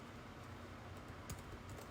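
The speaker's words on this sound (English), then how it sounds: "then we're going to type in net" Keys tapped on a computer keyboard while coding in Python, a quiet, close, uneven run of clicks over a steady background hum.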